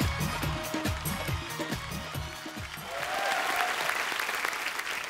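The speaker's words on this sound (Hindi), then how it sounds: "आप सबकी तालियों के बीच इनवाइट करना चाहूंगा" A studio audience at a comedy show applauds in a dense, sustained patter of clapping after a host's spoken introduction, with some light cheering toward the end.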